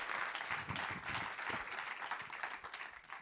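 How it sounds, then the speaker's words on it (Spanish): An audience at a commemorative gathering breaks into applause, a dense, steady patter of many hands clapping together that tapers slightly toward the end with no speech over it. "Muy bien, un aplauso"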